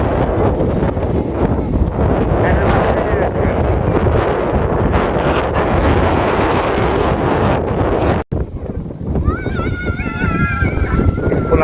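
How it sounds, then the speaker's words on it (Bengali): Strong storm wind roars and buffets a microphone outdoors, a loud continuous rush that cuts out briefly before resuming, with thin high chirping sounds near the end. "এই দেখেন কিরকম বাতাস"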